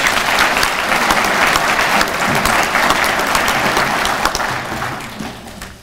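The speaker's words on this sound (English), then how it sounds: "Let's give them one more round of applause." Dense, loud applause from the audience at an American Legion Department of Indiana ceremony for award recipients, a steady wash of clapping that holds, then tapers off toward the end.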